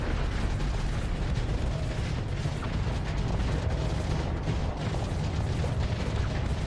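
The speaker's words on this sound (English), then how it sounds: "Something exploded there." A ship blows up during a space battle in Starsector, heard as a continuous loud rumble of explosions and blasts, dense and heavy throughout with no voices over it.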